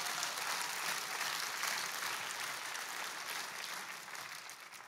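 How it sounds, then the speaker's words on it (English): A church congregation claps their hands together in a dense, steady wash of applause during a Sunday service, fairly distant and even, gradually tapering off over a few seconds. "give the Lord a hand clap right there"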